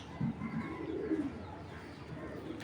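Racing pigeons coo softly in low, rolling murmurs, with a couple of fuller coos standing out over faint room noise.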